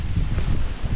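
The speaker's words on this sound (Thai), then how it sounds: "พอบอกจะมาเล่าเรื่องผีเท่านั้นแหละลมอย่างแรงเลยครับ" Strong wind blows outdoors on a roadside, roaring steadily as a loud buffeting rush across the microphone.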